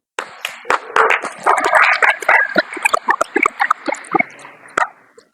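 An audience at a leadership conference sermon in Khanispur, Murree breaks into loud, close applause, with sharp scattered claps swelling into a dense patter and then thinning out to a few last hand claps.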